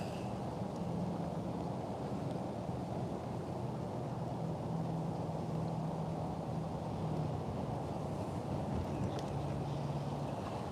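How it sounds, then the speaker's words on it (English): Steady wind roars across a lake around a small fishing boat, a continuous broadband rush buffeting the microphone with a faint low motor-like hum underneath, no talking. "This dang wind is wanting to push me up."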